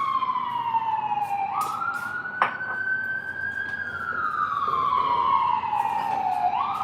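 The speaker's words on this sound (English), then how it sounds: "Can you hear that fire truck?" A fire truck siren wails loud and steady, its pitch rising and falling in long sweeps as the truck passes close by a house, with no talk over it.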